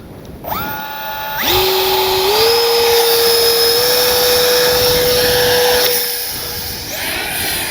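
Electric ducted fan motor of a 50mm Arrows RC T-33 jet spools up for a hand launch, a loud close whine rising in pitch, holding at about half throttle, then easing down.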